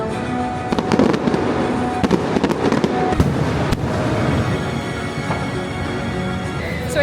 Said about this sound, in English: when the fireworks are going off, it is like ear-ringingly loud, really loud